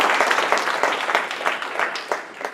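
An audience in a meeting room applauds after a presentation, a short burst of many hands clapping, fairly close and lively, with no talk over it.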